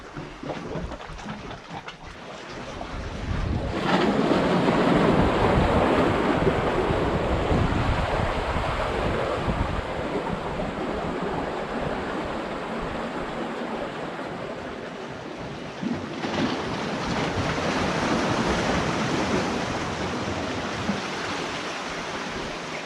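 Big ocean swells break as surf in a steady, loud roar, swelling after a few seconds and holding a broad wash of churning water with wind buffeting throughout, no voices.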